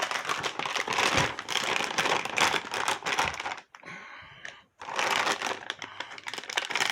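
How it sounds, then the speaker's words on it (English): Plastic packaging crinkles and crackles continuously as a statue of Arkham Origins Deathstroke is pulled from its blister pack, close and busy, with a short quiet pause before the rustling resumes. "let's get the figure out of the packaging"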